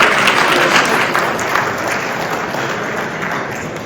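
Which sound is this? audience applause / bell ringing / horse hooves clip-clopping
audience applause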